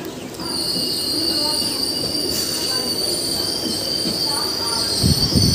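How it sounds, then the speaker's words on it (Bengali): A Bandel-Naihati local train pulling out of platform 7 at Bandel Junction, with loud sustained high wheel squeal over a steady rumble of rolling railcars, close by and continuous. "আমাদের ব্যান্ডেল নৈহাটি লোকাল ব্যান্ডেল জংশন স্টেশনে 7 নম্বর প্ল্যাটফর্ম থেকে ছাড়বে"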